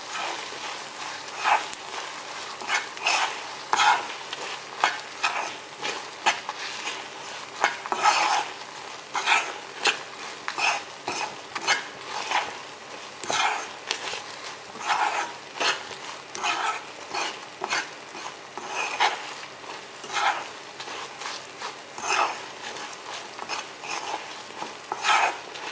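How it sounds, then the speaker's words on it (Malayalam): Kerala-style beef pickle masala with chili powder, asafoetida and salt being stirred in a pan: a steady run of close, repeated scraping and clattering spoon strokes over a faint sizzle, with no talking. "നമുക്ക് നന്നായിട്ട് മിക്സ് ചെയ്യാം"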